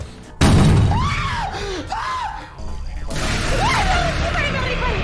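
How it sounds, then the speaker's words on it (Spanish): A character screams in the Resident Evil video game, loud rising and falling wails that break out suddenly and recur over several seconds amid game noise, with people talking. "Este grito fue re película"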